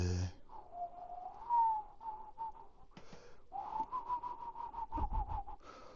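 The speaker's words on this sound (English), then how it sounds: "Whistling is another form of expression." A person whistles a wavering melody, sliding between notes with short pauses, fairly close and moderately loud, with a brief rustle partway through.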